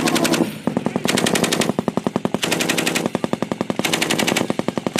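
M240B machine guns fire in long, rapid bursts during Marine platoon defense drills outdoors, loud and close, with sharp evenly spaced shots broken by short gaps between bursts.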